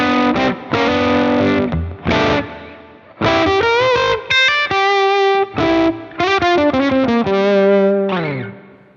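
Electric guitar played through a Fender tweed amp with a Celestion speaker, loud and distorted with effects, ringing out in bursts of chords and single notes with short pauses between phrases.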